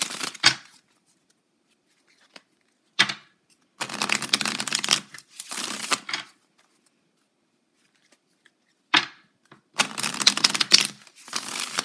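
Tarot cards are shuffled and drawn in several separate bursts of fast riffling, with sharp single snaps and silent pauses between them. The sound is close and distinct, with no voices.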